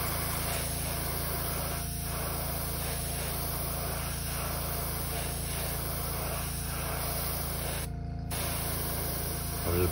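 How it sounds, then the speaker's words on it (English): An airbrush blows a continuous steady hiss of air over a freshly painted blue fishing lure, close and unbroken for the whole stretch apart from a brief dip near the end. "I'm just blowing some air on it."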